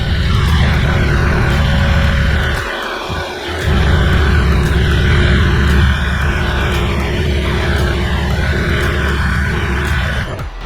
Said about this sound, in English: so vehicle's running pretty well